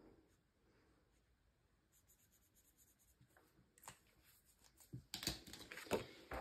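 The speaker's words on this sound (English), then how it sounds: "So we'll just color in the first envelope here, which is the 5." A blue pen colors in a paper cash envelope, making faint, quiet scratching strokes that grow busier and louder toward the end, with no voices.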